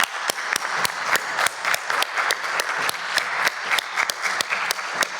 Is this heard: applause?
yes